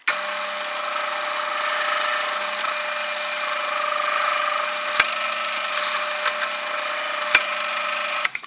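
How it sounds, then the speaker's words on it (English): A power drill with a brad point bit whirs steadily into wood, drilling recesses for a bandsaw circle-cutting jig, a continuous high grinding buzz with a few brief clicks near the end. "get this lined up and drill a recess on these points"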